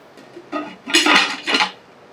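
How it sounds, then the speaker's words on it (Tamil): Metal clanks and clatters as a lid is set onto a cooking pot of simmering vegetable stir-fry, a few quick knocks and rattles close by, then quiet. "அதில் மூடி போட்டுட்டு கொஞ்ச நேரம்"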